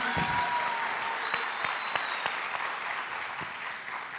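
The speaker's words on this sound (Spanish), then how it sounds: "Rosa Montero, a quien les pido otro aplauso ya que estamos acá sentados." Steady applause from an audience at a talk at the Bogotá book fair FILBO 2025, continuous clapping throughout at moderate volume with no voices over it.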